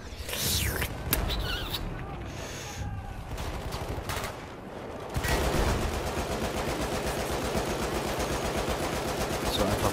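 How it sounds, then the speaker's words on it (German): Battlefield 1 gunfire rattles in rapid automatic bursts, first scattered among other battle noise, then a sustained fast stream of shots, fairly close and loud. "reinballern, bis die Patronen leer sind"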